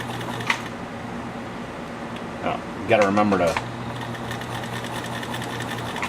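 Kenmore 84 sewing machine running steadily at close range, a continuous motor hum with a brief louder burst of rapid stitching near the middle while set for buttonhole stitching; faint speech is present.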